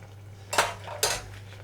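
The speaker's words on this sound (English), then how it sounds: "Keep stirring until it starts to evaporate and goes thick, and then add more stock." A spoon scrapes twice against a pan as rice with stock is stirred for mushroom risotto, two short close clatters over a low steady hum.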